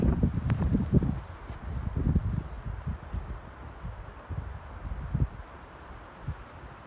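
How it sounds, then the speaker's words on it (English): Gusts of wind during heavy, fast snowfall at night in Big Bear Lake, California, buffet the microphone in low, uneven rumbling bursts that are strongest at the start and then ease into a softer whoosh. "Oh my God, okay, there's a gust."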